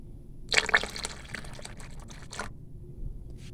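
Fresh water poured into freshly churned butter while making desi ghee, a brief splashing burst of liquid followed by softer wet trickling, close and alone.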